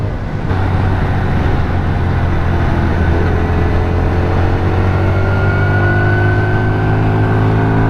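An SSR Buccaneer cafe motorcycle's engine hums steadily while being ridden, a loud, even drone with a slowly rising pitch as it accelerates, and no talking.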